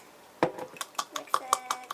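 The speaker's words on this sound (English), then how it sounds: "So mix it, mix it, mix it, mix it" Spoon clinking against a ceramic mug while chocolate cake batter is stirred, a run of light, quick taps and scrapes in a steady rhythm, close and fairly soft, with faint speech underneath.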